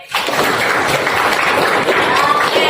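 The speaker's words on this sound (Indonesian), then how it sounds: "Tepuk tangan untuk Amin." Classroom applause for a student during an Indonesian language lesson, a dense burst of many students clapping together, fairly loud and close, lasting a few seconds.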